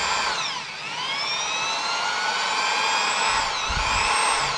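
A power drill with an oiled bit whines steadily at high pitch while boring, its motor tone dipping briefly under load twice, close and loud throughout with no talking.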